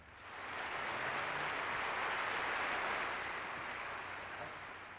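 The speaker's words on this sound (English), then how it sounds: "And then the applause sign goes on, and here it is" Studio audience applause swells in, holds as a dense, even wash of clapping, then tapers slightly toward the end, with no talking over it.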